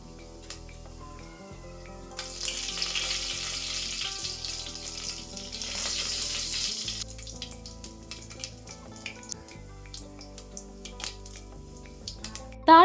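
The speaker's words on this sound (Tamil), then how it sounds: "நம்ம எடுத்து வச்சிருக்க தாளிப்பு பொருள் எல்லாத்தையுமே ஒன்றொன்னா சேர்த்து நம்ம தாளிச்சுக்கலாம்." Tempering spices sputter and crackle in hot oil for a vegetable biryani, a dense sizzle swelling in the middle then thinning to scattered pops, with a sharp clatter at the very end.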